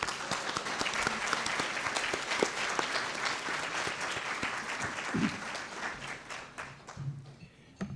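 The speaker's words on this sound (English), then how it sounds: "So let's give them all a round of applause." Luncheon audience at a Travis County volunteer recognition event gives a sustained round of applause, dense steady clapping filling the room for the full stretch and thinning slightly near the end.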